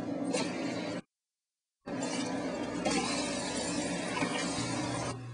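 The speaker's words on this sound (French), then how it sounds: "Chaque moule est brisé et la pièce de bronze est extraite des débris du moule." Bronze casting mould from lost-wax casting broken apart: a loud, dense crunching and shattering of mould debris, cut by a sudden second of silence before the crumbling resumes.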